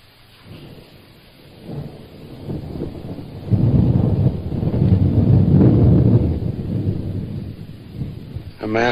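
Heavy rain pours down in a thunderstorm, with a deep rumble of thunder building and holding loud through the middle, set in the Dakota territory of the 1950s Western frontier.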